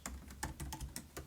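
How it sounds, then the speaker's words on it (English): A pip install command being typed on a computer keyboard: a quick run of soft, close key clicks at an uneven pace, faint and alone. "here you want to type in pip install py simple GUI"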